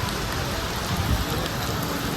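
Rain that has fallen for days pours steadily, a dense, even patter of drops on surfaces with a low rumbling wash underneath, close and unbroken.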